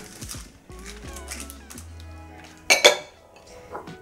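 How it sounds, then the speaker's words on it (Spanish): Sweet potato pieces are dropped onto a baking tray for a low-calorie pumpkin cream recipe, giving a sharp cluster of clinks and clatters midway, with softer handling noises and low kitchen hum before and after. "Y ahora añadiremos el boniato."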